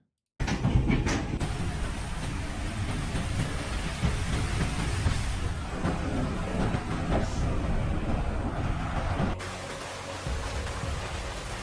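Hailstorm with heavy rain, tennis-ball-sized hail pelting down beside a swimming pool: a loud, dense, continuous roar of pounding ice and rain with no talk, easing slightly near the end.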